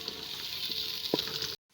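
Onions frying in a pan until light brown, a steady close sizzle with a couple of brief stirring clatters, no voices.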